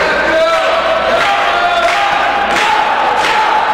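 A wrestling crowd in an independent arena cheers for Joe DeSoul, a loud, sustained roar of voices and shouts that fills the whole stretch without a break.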